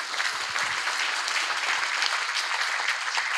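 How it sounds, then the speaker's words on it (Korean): Audience applause at a Korean lecture-style talk by a professor, a steady dense patter of clapping hands filling the room, continuous and fairly loud throughout with no voices over it. "네, 박수 주세요."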